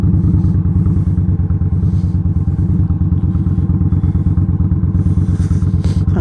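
A motorcycle on a safety training course rides slowly through cones, its engine a steady, close, low-pitched rumble that holds throughout with a light mechanical clatter and no voices.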